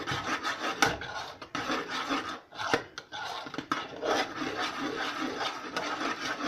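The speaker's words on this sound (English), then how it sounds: "Now we're stirring fast." A spoon stirring thick chocolate pie filling fast in a pot gives a steady, close scraping and rubbing sound with quick uneven strokes that continue the whole time, and no one speaks.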